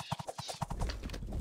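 Cavalry horses of the Scots charge in the Pike and Shot strategy game, with a quick, clear clip-clop of hooves that blurs into a denser rumble of galloping.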